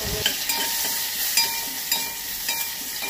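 Curry leaves dropped into hot oil with mustard seeds and asafoetida for a Goan tempering, giving a continuous bright sizzle and hiss broken by sharp crackles and pops every half second or so, close and fairly loud with no voices.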